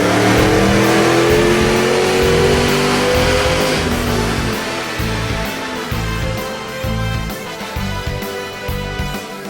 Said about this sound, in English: Let's go ahead and take it for a test drive on the dyno and see how it does.